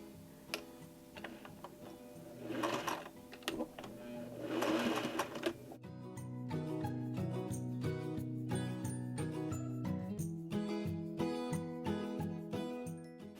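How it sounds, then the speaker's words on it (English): A vintage 401 sewing machine sews through denim jeans, shifting from an uneven whir into a steady, rapid mechanical ticking that runs close and continuous. "I did use my vintage 401 just because these vintage machines or a better made machine can handle sewing through jean a lot better"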